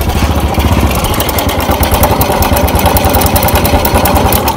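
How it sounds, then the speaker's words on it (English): A Honda Wave100 motorcycle engine runs loud and close, with a steady rapid chugging idle that holds evenly throughout and no one speaking over it. "So tengok dulu motor dia bunyi mana"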